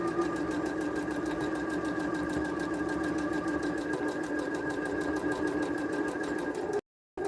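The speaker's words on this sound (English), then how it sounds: "And you're essentially basting this into place." A sewing machine runs a long basting stitch through fabric, a fast steady mechanical whir with rapid needle ticks lasting several seconds before cutting off abruptly near the end.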